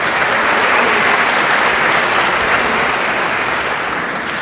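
A debate audience claps in a loud, dense, sustained burst of applause that fills the hall evenly from start to finish with no pause or talk over it.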